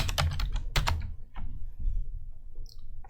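Computer keyboard keys typed in a short burst of quick clicks, close and fairly loud, then a few scattered single taps before a quiet pause.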